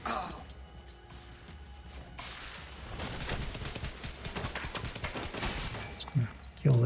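Video game gunfire builds into a dense, fairly distant rattle of overlapping shots that keeps going for several seconds, with a couple of louder hits near the end.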